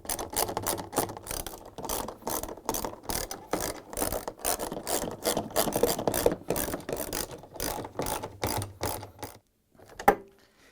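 A ratchet wrench tightens the center tub bolts on a Samsung washer during a tub seal replacement, clicking in quick, steady bursts for about nine seconds before stopping, with one last faint knock near the end.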